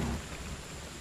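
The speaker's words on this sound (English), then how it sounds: "Acid rain." Steady hiss of acid rain in the motorbike game Trials Fusion, a continuous dense wash of falling rain heard briefly on its own.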